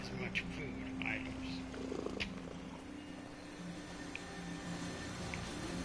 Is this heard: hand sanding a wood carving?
no